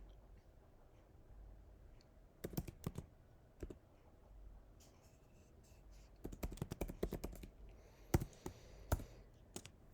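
Bursts of typing on a computer keyboard, quick clusters of clicking keystrokes with short pauses between them, close and fairly quiet over a faint room hum.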